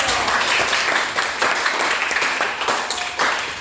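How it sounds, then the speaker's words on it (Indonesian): Students in a classroom applaud together, a dense and fairly loud burst of many hands clapping that stays steady and fills the room without any talking. "Oke, tepuk tangan dulu."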